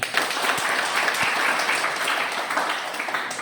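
Classroom applause during a lesson, a short burst of steady clapping from a group of students, close and continuous.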